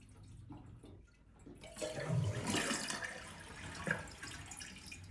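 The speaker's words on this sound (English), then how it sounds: "Drain out the rest of the water that's sitting in here." Water rushes and gurgles out of a Kohler toilet tank as it drains during a repair of a constantly running toilet, starting with faint trickling, then a loud close swirling flush-like surge that tapers off.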